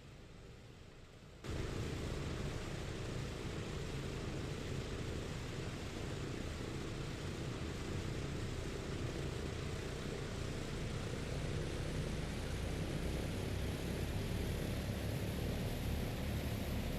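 Steady loud propeller drone of a PMDG Douglas DC-6 taxiing in Microsoft Flight Simulator 2020, starting after a quieter second and holding a constant broadband roar with no talk.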